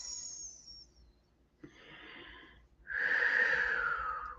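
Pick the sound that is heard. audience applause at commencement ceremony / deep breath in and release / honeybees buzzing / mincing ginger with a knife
deep breath in and release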